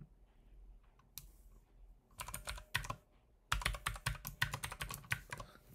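Someone types an email address and password on a computer keyboard, sparse key clicks at first, then rapid bursts of close, crisp keystrokes.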